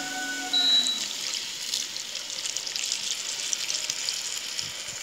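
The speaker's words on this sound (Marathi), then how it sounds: "त्यामध्ये आपण गरम पाणी टाकून घेऊ" Hot water poured into a pan of fried masala for a spicy soya chunks curry bursts into loud, close sizzling that settles into a steady hiss and crackle, with no speech.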